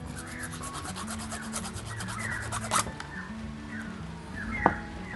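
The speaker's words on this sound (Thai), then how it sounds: "เป็นทองเหลืองเนี่ยพวกนี้สะดุดนะครับ ก็ให้ใช้ตะไบนะครับ ค่อยๆลบนะครับ" A hand file rubs steadily over a brass lock cylinder housing from an Isuzu Cameo or TFR, giving continuous close rasping strokes with a sharp metallic clink near the end.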